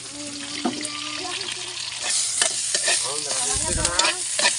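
Food is sautéed in a pan for a fish sarsiado, with a steady sizzle, repeated scraping and stirring clatter, and brief voices in the background.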